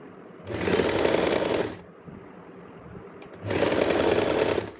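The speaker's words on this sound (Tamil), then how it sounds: "ஸோ நான் கீழேருந்து தைக்க ஆரம்பிக்கிறேன்." A sewing machine stitches the folded hem of a kurti side slit in two steady, close bursts of rapid whirring separated by a short pause.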